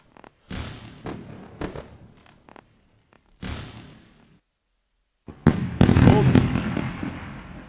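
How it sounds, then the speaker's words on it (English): Fireworks go off in sharp booming bursts, loud and close, with a few separate blasts and gaps of silence before a denser crackling volley at the end. "Pretty fireworks time"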